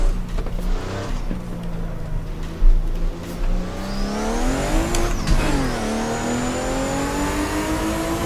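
A race car in Assetto Corsa accelerates hard on a street circuit, its engine note climbing through the gears with a shift and brief dip midway, then rising again, loud and continuous with a high whine above.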